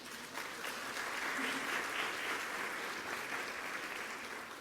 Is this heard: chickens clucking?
no